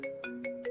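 A short electronic phone ringtone, a repeating melodic tone pattern with pulses of higher notes, clear and close with no voices.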